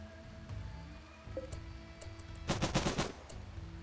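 Heavy machine gun fire in the video game Rimworld: a quiet, tight burst of rapid shots near the end, with a few scattered pops and clicks before it, all faint under a low game hum.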